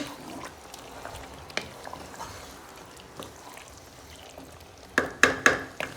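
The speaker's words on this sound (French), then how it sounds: "Une fois les carottes rajoutées, vous remuez." A spoon stirring carrots into curry rice in a pan, giving soft scraping and faint sizzling throughout, then a few sharper clinks and scrapes near the end, quiet and close with no talking.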